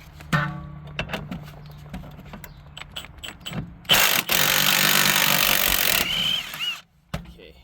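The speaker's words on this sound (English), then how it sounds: "let's go ahead, take this off with the wrench" A wrench working on the bolts of a rear coilover on an Infiniti Q50, heard as close metallic clicks and knocks, then a loud burst of a power tool running for about two seconds before another clunk.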